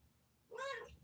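A pet cat gives a single short, rising meow up close, sounding clearly after a moment of quiet room tone.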